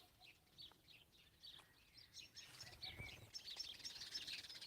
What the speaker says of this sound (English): It's either hooper or it's a woodpecker.